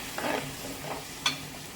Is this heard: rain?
no